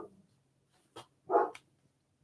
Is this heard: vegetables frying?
no